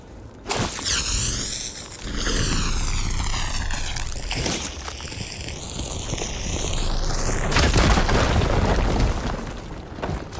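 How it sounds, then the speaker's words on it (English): A fire gleam blows up in Horizon Forbidden West with a loud, booming burst, followed by a roaring, crackling rumble and sweeping tonal whooshes that build to a heavy second blast near the end. "Should be able to blow up that fire gleam."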